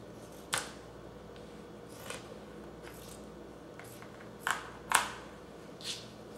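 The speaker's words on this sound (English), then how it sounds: "I'm gonna cut this neckline off because I don't want the neckline in there at all" Scissors snipping through fabric to cut a neckline off a garment for a pillow: a series of sharp, brief clicks and snips at irregular intervals, some louder and close, over a faint quiet background.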